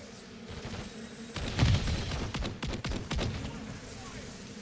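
Gunfire in Call of Duty Modern Warfare III, a burst of sharp shots and impacts in the middle of the clip, sitting under game noise and voices with quieter ambience before and after.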